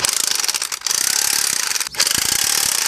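A ratchet tensioning a coil spring compressor on a car strut, fast metallic clicking that runs steadily with two brief pauses, close and loud with no talking.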